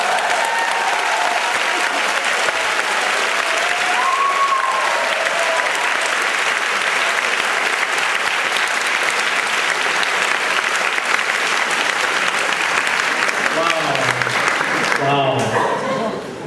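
Sustained audience applause follows a speech, a dense, even wash of many hands clapping that carries on for over fifteen seconds, with a few voices surfacing toward the end.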